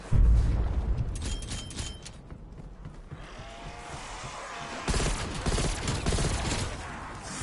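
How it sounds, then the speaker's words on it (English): A grenade explodes in Call of Duty Cold War Zombies with a loud, booming blast at the start, followed by gunfire crackle and game noise that swells again later. "Throw a grenade."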